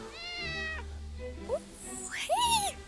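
A cat gives a few drawn-out meows at close range, one near the start and a rising, wavering one near the end, over quiet background noise.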